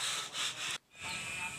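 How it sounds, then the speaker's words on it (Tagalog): Coarse rhythmic scraping of number 80 sandpaper on wood, back-and-forth strokes with a brief pause midway, close and fairly loud. "Lihain ng number 80 para hindi tayo mahirapan sa pagliha."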